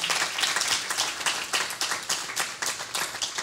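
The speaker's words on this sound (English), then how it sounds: "I want you to give them a big round of applause." Audience clapping for a youth group during night 108 of a Maha Jnana Yajna event, close, dense, continuous applause with audible individual hand claps, no talking.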